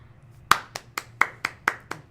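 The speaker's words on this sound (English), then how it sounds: "Round of applause." Hands clap seven times in a slow, even rhythm, each clap sharp and close, during a casual podcast recording.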